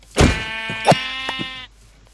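A single Minecraft sheep gives one loud, clear bleat up close, holding a steady wavering tone for about a second and a half before cutting off.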